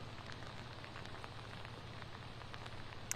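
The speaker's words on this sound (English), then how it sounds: "It hasn't stopped raining, and more rain is expected to hit into the nightfall." Rain from a storm in Houston falls steadily in a dense, even hiss with scattered drops pattering on surfaces and a faint low hum underneath, with no speech.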